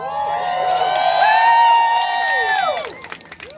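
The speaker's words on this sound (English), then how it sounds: "give yourselves all a round of applause" A crowd at an outdoor student rally for Palestine in Long Island City, Queens, cheers loudly with whoops and high shouts, sustained voices and scattered claps swelling then breaking into ragged clapping near the end.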